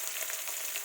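Onions sizzle and fry in a small amount of oil for a tadka in a kadhai, a steady, close, dense crackling hiss with no voices.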